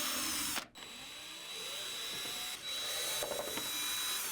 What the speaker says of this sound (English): Start by removing the 4 top cover screws.